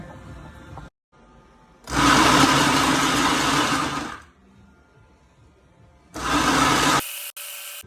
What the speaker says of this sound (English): my almonds are out of the oven, and I'm just going to put them into my food processor